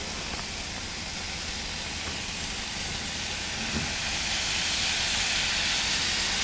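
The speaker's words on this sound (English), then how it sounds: "I just love the sizzle of a grill" Skewers sizzle on a grill with a dense, steady hiss that swells slightly louder toward the end, close and continuous with no voices.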